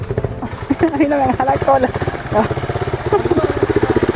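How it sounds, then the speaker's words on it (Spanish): A motorcycle engine putters and revs at close range during a ride through Colonia Tovar, Venezuela, its rhythmic exhaust pulses running under a voice. "Así grabas el paseo en moto."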